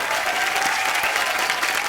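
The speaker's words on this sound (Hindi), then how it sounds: "जोरदार तालियां" A studio audience at The Kapil Sharma Show, a Hindi comedy talk show, breaking into dense, continuous applause, loud and even from start to finish.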